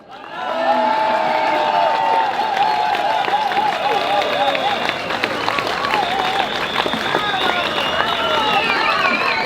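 Audience at a Geneva rally applauding Maria Pia Ambrosetti, a dense sustained burst of clapping with cheers and whoops that begins abruptly and stays loud to the end, with voices carrying over it.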